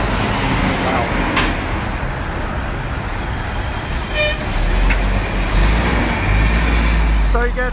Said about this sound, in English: I'm going to stop 1 second because the truck's coming. It's loud.